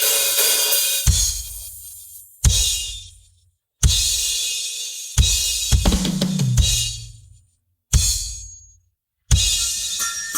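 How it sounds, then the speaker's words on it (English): Isolated drum tracks from a live recording of a song, with loud, sharp hits landing at irregular intervals, each ringing out and decaying between strikes, cymbal wash in places and low tom or kick body beneath, no other instruments. "We have 3 tracks going here for the drums, and they sound like this, isolated."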